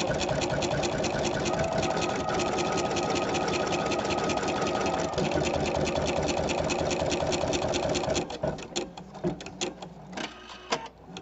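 A sewing machine stitches embroidery on toilet paper, running as a fast, steady mechanical whir for about eight seconds, then slowing into uneven, lighter clicks near the end.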